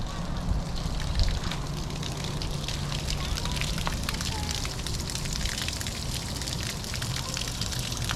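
Water flushing at full stream through an RV water softener during regeneration, a steady loud rushing hiss that holds constant throughout with no pauses.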